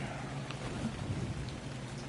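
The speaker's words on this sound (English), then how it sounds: "I might crash because the rain just started" Rain in the game Ark Survival Ascended, a steady, dense hiss of rainfall with a low rumbling undertone like distant thunder, continuous and fairly loud with no talking.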